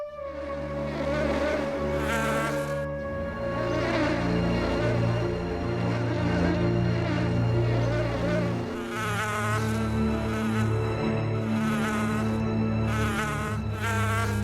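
Cartoon bees buzz loudly and continuously, a dense droning hum that shifts in pitch, alone without speech.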